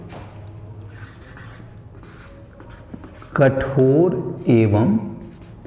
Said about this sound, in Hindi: तो पहले लिख लेते हैं हम लोग